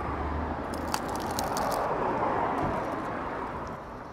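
A crunchy taco from a Los Angeles eatery is bitten into close to the microphone, giving a brief crisp crackle over a low room hum.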